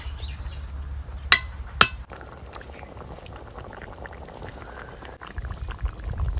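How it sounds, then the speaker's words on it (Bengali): Spice-rinse water is poured into simmering chicken and taro root curry in a village kitchen: two sharp clinks, then a steady close wash of pouring and bubbling liquid with no talking. "গাটি কচুর সাথে বেশ মাংসটা ভালো করে কষিয়ে নিয়েছি, এবার দেব মশলা ধোয়া জল।"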